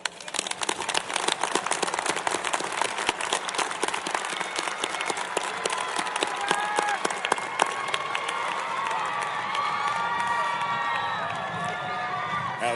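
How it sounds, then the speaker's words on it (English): A large crowd at a U.S. Air Force Academy commencement ceremony breaks into loud, sustained applause, with clapping building quickly and whoops and cheers rising over it in the later seconds. "let's give them a huge round of applause"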